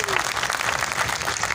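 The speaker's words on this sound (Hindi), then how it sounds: "इसलिए मियां गजनफर साहब के लिए एक दफ़ा तालियां तो इस बात पे बनती हैं।" A crowd at an election rally for a housing society bursts into dense, loud applause for Mian Ghazanfar, clapping steadily throughout.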